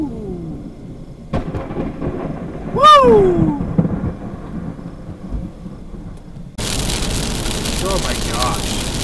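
Thunder rumbles from a close lightning storm over southwest Kansas, a loud crack and rolling boom standing out above steady rain and wind noise, with excited voices breaking in.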